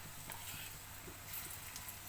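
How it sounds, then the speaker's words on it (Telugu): Boondi frying in hot oil for motichur laddu, a soft continuous sizzle with faint bubbling and occasional stirring, heard quietly and alone. "ఇది చూడండి, ఫ్రై అవుతున్నాయి. ఇలాగా వేగాలండి."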